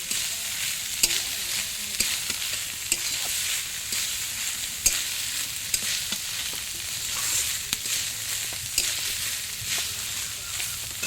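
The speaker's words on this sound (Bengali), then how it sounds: "জল দিয়ে ধুয়ে নিগড়ে তুলে নিয়েছি ভালো করে আগে ভেজে নেবো" Food fries in a pan for a picnic meal, with a steady sizzle throughout and frequent stirring clicks and scrapes close by.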